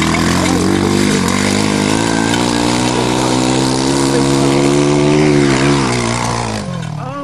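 A motorized bicycle engine revs hard and close while climbing Sky Hill, a loud, steady droning roar with shifting pitch that holds for several seconds before easing off at the end.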